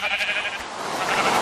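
A sheep bleats in Minecraft during a shearing moment, one drawn-out, loud, close bleat filling the short stretch on its own.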